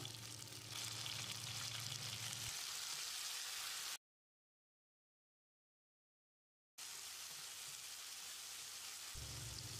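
Steady, close sizzling of tomato sautéing in a hot pan for sambar, interrupted by a few seconds of complete silence before the hissing resumes.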